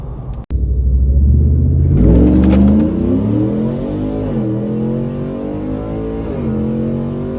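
Whipple-supercharged 2024 Ford F-150 pickup launching hard, a sharp thump then a loud roaring engine surge rising in pitch through the revs before easing into a sustained drone.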